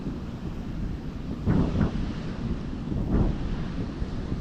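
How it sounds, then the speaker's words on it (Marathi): Large sea waves surging and breaking under steady wind buffeting the microphone, a continuous low roar with a few swelling wave pushes, no voices. "समुद्राला लाटा पण मोठ्या आहेत"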